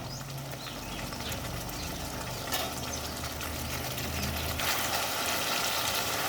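Spice masala for Bengali murighonto frying in oil: a steady, close hiss and sizzle throughout, with a brief stirring scrape and a louder surge near the end, no speech.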